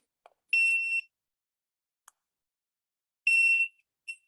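Electronic beep tone from the sound button of an NVK training collar, two short high-pitched buzzing beeps about three seconds apart with faint clicks between, close and alone in near silence.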